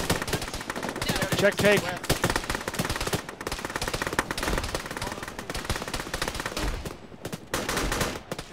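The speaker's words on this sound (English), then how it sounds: "I'm using an AK right now" AK rifle fire in a tactical military video game, bursts of rapid gunshots and rattling automatic fire with distant shots between, while players talk over the radio.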